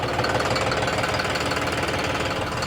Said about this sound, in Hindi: ट्रैक्टर स्टार्ट अभी मैंने बंद नहीं किया